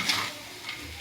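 Moong dal fry being stirred in a pan, a soft close sizzle with light scraping strokes across a brief moment, no voices.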